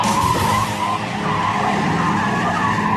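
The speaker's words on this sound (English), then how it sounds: "we skip Mike ahead to the slalom, where he goes too fast and badly oversteers" A car skids through a slalom course on a driver-training course, badly oversteering at too high a speed; a loud, continuous tire scrub and squeal holds steady for about three seconds with no talk.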